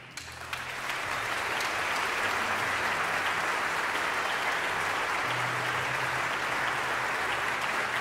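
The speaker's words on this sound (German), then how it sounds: "Ich bitte nochmal um einen besonderen Applaus" An audience at an opera gala for rebuilding Ukraine gives dense, sustained applause, loud and even from start to finish with no talking over it.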